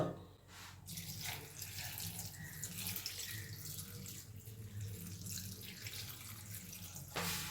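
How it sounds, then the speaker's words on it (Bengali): Water pours steadily into a pot of chopped cabbage with turmeric and salt, a continuous close rushing stream that runs for several seconds before stopping. "এবার দিয়ে দেব প্রয়োজন মতো জল"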